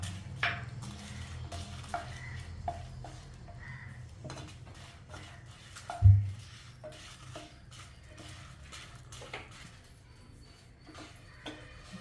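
Chillies are fried in a pan until crisp, with a spatula scraping and clinking against the metal over a faint sizzle. One louder knock comes midway, and the sound stays close with no talk.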